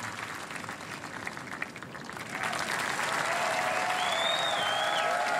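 A golf gallery at the 2014 US Women's Open on the 18th hole breaks into applause. It starts as faint scattered claps, then swells into sustained, broad clapping from a large outdoor crowd.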